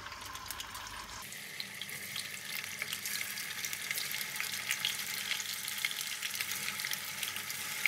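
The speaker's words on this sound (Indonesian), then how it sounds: "Tahunya digoreng sampai kering." Tofu deep-frying in a non-stick wok, a loud, dense, crackling sizzle that swells abruptly after the first second and holds steady, close and without talk.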